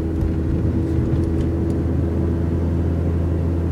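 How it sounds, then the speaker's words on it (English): A car driving along a road makes a steady, loud low rumble of engine and tyre noise that holds evenly throughout, with no talking. "I'm driving up the same stretch of road."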